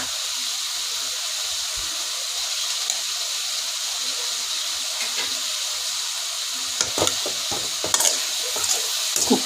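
Duck curry with crushed garlic and ginger fries in a pan with a steady, close sizzling hiss, and a few scraping stirs come through near the end.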